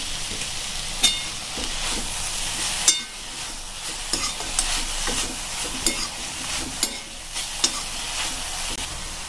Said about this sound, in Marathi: आता आपण ही छान प्रकारे मिक्स करून घेऊया